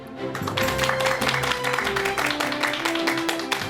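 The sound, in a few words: studio audience applause welcoming a guest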